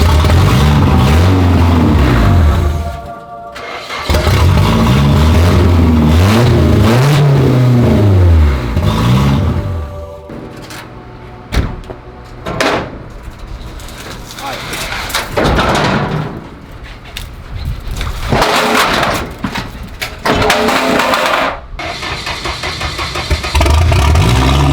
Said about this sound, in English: Let's put this one in, and hopefully it'll turn on this time.